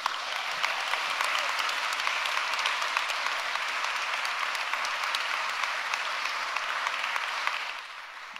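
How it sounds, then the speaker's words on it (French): Sustained applause from an audience at a spoken performance, a steady roar of many hands clapping for several seconds before it starts to thin out at the end. "Un tonnerre d'applaudissements pour Julie Lombé."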